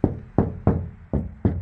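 Five sharp knuckle knocks on a bare, undamped steel door panel of a Hyundai Starex van, evenly spaced, each with a short hollow ring, loud and close, with no voices.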